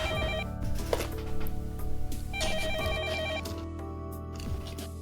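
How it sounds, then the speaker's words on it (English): A telephone ringing in the visual novel game Fate/Stay Night, repeated electronic ring bursts over a steady synthesized music bed, loud and close with no voices. "you're thankfully interrupted by the phone ringing"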